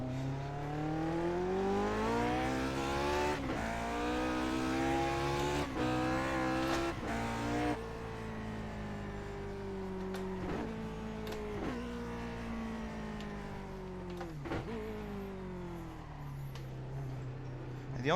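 A Lotus 49 race car in the iRacing sim revs hard, its engine pitch climbing through gears, then dropping on downshifts with brief blips, loud and continuous throughout.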